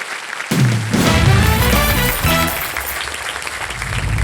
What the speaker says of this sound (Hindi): जोरदार तालियां सिद्धू साहब के लिए।